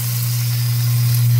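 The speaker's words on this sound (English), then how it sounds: "We've got our Zoeller, new Zoeller M98. I'm getting ready to kick that on to see how well it works." A new Zoeller M98 sump pump kicks on and sprays water: a loud, steady motor hum with a broad hissing spray running continuously close by.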